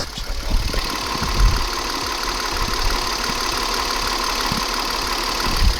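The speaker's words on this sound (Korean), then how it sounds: "그랜저 지금 시동 걸었고요" A Hyundai Grandeur TG Q270 engine idling steadily up close after starting, with a continuous low rumble and faint ticking, unbroken and without any voices.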